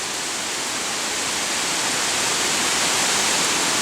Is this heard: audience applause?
no